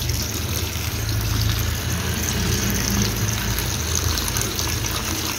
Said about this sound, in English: I am going to drain all the hot water and then rinse it with the cold water